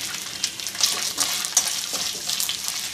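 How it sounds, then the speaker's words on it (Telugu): Food frying in hot oil with turmeric in a pan, a close, crackling sizzle with bright spitting pops and a few light metallic stirring clinks, steady for a few seconds with no talk. "ఖచ్చితంగా నూనెలో అయితే వేపుకోవాలి"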